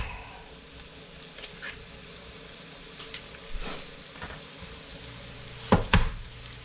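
Eggs and bacon sizzle and fry in a pan with a steady soft crackle, broken by a few utensil scrapes and a louder clatter near the end.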